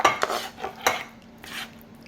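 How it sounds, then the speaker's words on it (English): Spoon scraping and clinking against a pan while vegan meat sauce is spooned into a lasagna dish: several sharp metallic knocks and scrapes close by, separated by brief pauses. "We're going to take half of it and put it in the pan."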